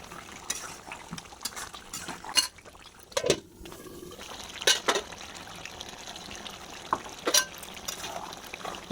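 Beef with tomato being sautéed in a pot, giving soft bubbling and sizzling liquid sounds broken by scattered sharp clinks and scrapes of a utensil, close and fairly quiet.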